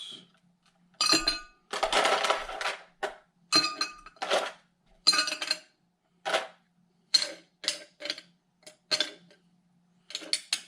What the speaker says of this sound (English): First thing we need to do, of course, is ice in our glass.